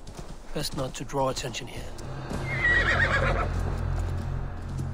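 A horse whinnies in Assassin's Creed Valhalla, with clip-clopping hooves and a brief neigh standing out over continuous in-game noise while someone talks over the first half.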